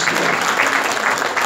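Loud, dense applause fills the room at a saxophone club's year-end party, a close, steady roar of many hands clapping with no break.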